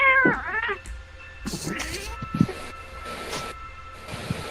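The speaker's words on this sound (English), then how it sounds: "That was my cat, sorry." A house cat yowling close by in a drawn-out, wavering caterwaul at the start, then quieter scattered meows and rustling noises following.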